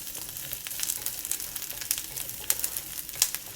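Aromatics sizzle in a pan over medium heat as they are moved around, giving a steady, close crackling fry with small pops and no talking.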